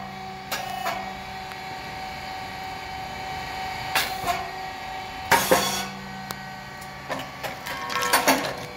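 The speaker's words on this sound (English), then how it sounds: "Rice cake machine, SYP3012. Thin crispy top for Cyprus." An SYP3012 rice cake machine producing thin crispy rice cakes: a steady mechanical hum under intermittent sharp cracks, pops and clattering bursts at irregular intervals.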